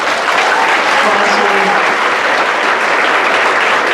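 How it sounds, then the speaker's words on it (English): Dense, steady clapping from a conference audience fills the room, loud and continuous throughout, with faint voices mixed underneath. "I want you all to actually clap for somebody else in the room"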